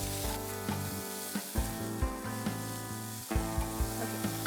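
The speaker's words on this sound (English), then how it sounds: "Now I'm going to add some ginger garlic paste, just a little bit. And just stir it right away" Ginger garlic paste sizzles loudly in a hot pan with oil while a spoon stirs it, giving steady crackling broken by regular scraping strokes, with no talking.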